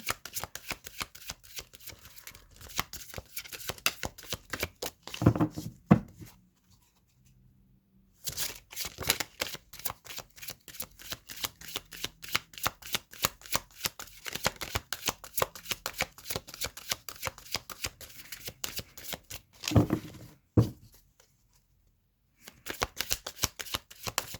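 A tarot deck being shuffled by hand, long runs of quick, close riffling card snaps broken by a few short silent pauses, with no talk.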